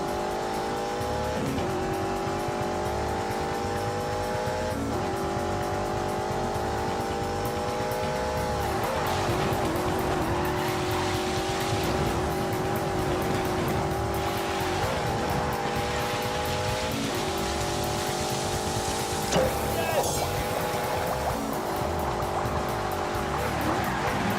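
A BMW 8 Series with four-wheel drive and four-wheel steering in The Grand Tour Game, its engine droning loud and steady, rising and falling through repeated gear changes, with tire noise throughout.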